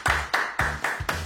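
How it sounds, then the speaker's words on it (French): A few people clap in short bursts for the winner of a French tacos cooking contest, four sharp rounds of applause close by with no talking. "On applaudit la gagnante qui est Océane."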